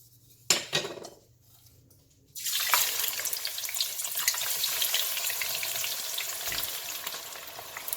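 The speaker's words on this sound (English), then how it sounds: "heat up some oil, and we're gonna fry up all of these ingredients" Jeow bong paste ingredients hit hot oil in a pan after a couple of utensil clinks, then a loud steady sizzle and crackle carries on alone, close by.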